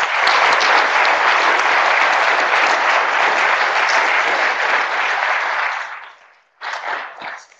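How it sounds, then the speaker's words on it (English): Lecture audience giving a big round of applause after a conversation on economics, a loud sustained roomful of clapping that fades out near the end, followed by a brief burst of movement or voice. "can we all just give Jim Heckman a big round of applause?"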